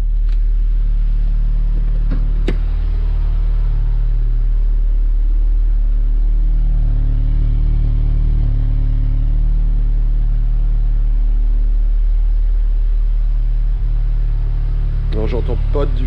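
Interior drone of an Audi S3 8V cruising on the autobahn, a steady heavy low rumble filling the cabin throughout, with a voice speaking over it.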